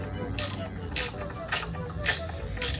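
A 15 mm ratchet backing out bolts from a Jeep Wrangler TJ sway bar mount, giving regular clicking bursts about every half second over a steady background.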